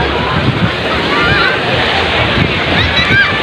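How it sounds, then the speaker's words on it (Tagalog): Large ocean waves wash against a beach in a steady, broad rushing surf with wind buffeting the microphone, as people speak nearby. "Dako kayong dagat karon."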